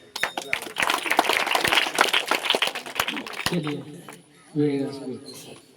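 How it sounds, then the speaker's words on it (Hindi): A gathering claps for a local cricket team, a burst of dense clapping with sharp individual claps for a few seconds, then tapering off as a voice speaks over the end. "तो एक बार हमारी टीम के लिए भी ताली हो जाए।"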